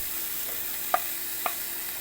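Garlic sautéing in a pan for a ground pork dish, a soft steady sizzle with two brief clicks of a utensil against the pan, close and alone with no voices.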